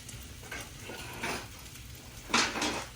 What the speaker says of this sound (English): Grabbing a set of tongs, and I just want to give these a little stir